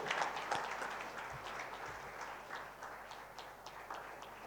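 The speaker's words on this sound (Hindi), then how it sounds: "एक बार जोरदार तालियों से, जोरदार तालियों से" Audience at a foundation day award ceremony clapping, a faint, dense patter of many hands held steadily throughout, sounding distant and somewhat echoey.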